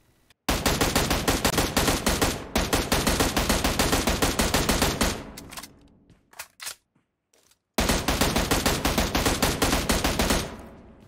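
M16 rifle firing on full auto in the battle royale game PUBG Mobile, long loud sustained bursts with a brief gap, a short pause of scattered shots, then another rapid stream of close shots.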